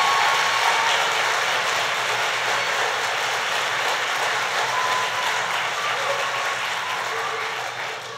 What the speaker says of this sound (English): let's give Hamlin and its staff a big round of applause.